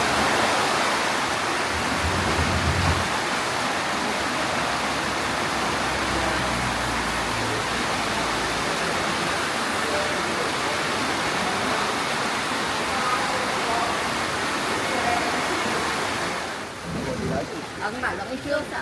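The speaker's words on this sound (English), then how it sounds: "The guys are out the back setting up the bowl, filling it with water" Water pouring steadily into a koi harvest bowl in Japan, a constant loud rushing hiss that holds throughout, with people talking faintly in the background.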